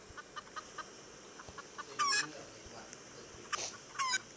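Chicken clucks and squawks from a Roblox obby game, short bursts over a light background with periodic ticks, two louder calls standing out.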